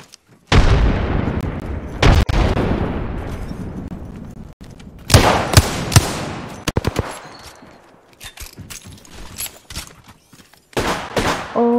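A grenade blast in Apex Legends gameplay, a loud explosion with a long fading tail, followed by sharp gunshots and scattered impacts at varying distances.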